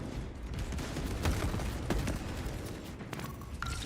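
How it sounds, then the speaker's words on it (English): A frag grenade goes off in a video game battle against Black Legion cultists: dense, loud blasts and gunfire-like bursts fill the whole stretch with steady battle noise, and no one speaks. "Throwing frag grenade."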